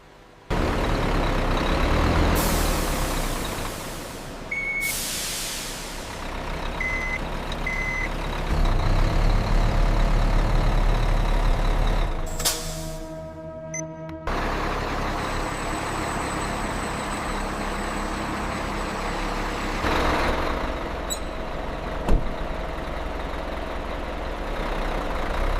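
A Scania cement mixer truck idles and rumbles, with reversing beeps, sharp hisses of its air brakes releasing, and engine revving in bursts, heard fairly close with no speech.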